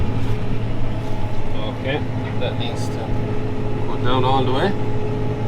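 A Kubota M7.173 tractor drives across a field while harrowing, its engine droning steadily and close throughout with no letup. Someone talks over the engine noise in a few short bursts.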